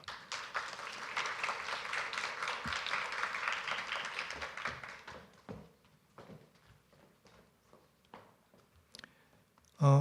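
An audience at a Korea University changemakers forum applauds award winners, roughly five seconds of steady group clapping that fades into scattered taps, shuffling and a final thump.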